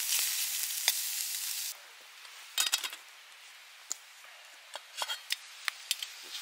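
Vegetables for a stew frying in a camping pan in Scotland, a sizzle that fades after the first seconds, followed by sharp clicks and scrapes as a stick stirs the pan.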